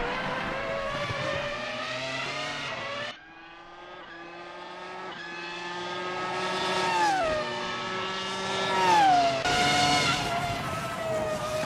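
A race car in a racing video game roars past with a high engine whine that swoops in pitch as it zooms by, shifting gears and fading, with more passes and revs following.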